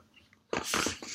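A puppy makes a short burst of close, breathy snuffling and yappy noises after a quiet moment, in a few quick pulses.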